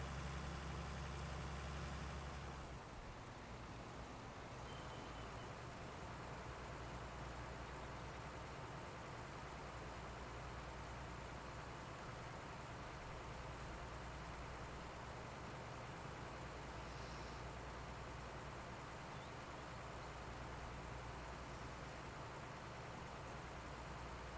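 A tractor engine in Farming Simulator 19 drones steadily with a low, constant rumble that runs unbroken from start to finish, with no talk over it.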